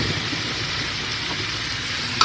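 Shrimp drop into a hot pan already holding garlic and onion, setting off a steady, close, dense sizzle that crackles evenly throughout, ending with a brief louder clatter.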